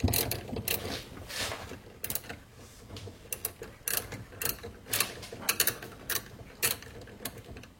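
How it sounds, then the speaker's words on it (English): A 10mm wrench turns the bolt on a car battery's positive terminal, giving a series of quick ratcheting clicks and metallic scrapes in short uneven bursts, close and fairly quiet. "we're going to use the 10mm to unscrew this."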